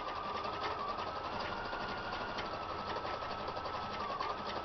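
A sewing machine stitches fabric for a microwave potato bag, a steady close continuous whirring hum of rapid needle strokes with no voices.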